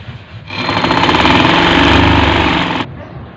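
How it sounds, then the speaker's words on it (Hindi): A sewing machine stitches curtain pieces together in one loud, continuous run of rapid mechanical chatter lasting a couple of seconds, with a quiet moment just before and after. "तो ये इसके साथ अभी हम सिलाई करेंगे"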